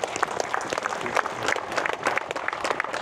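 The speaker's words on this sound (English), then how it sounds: "Give this brother a round of applause" A crowd applauding with dense, continuous clapping for a few seconds, fairly close and steady throughout.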